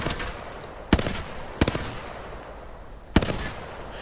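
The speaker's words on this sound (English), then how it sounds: "I like the hemlock because it's burst, so it does 3 bullets at once" Hemlock burst-fire rifle in the Apex Legends video game, firing three sharp bursts about a second apart, each a crisp, loud crack over a steady background ambience.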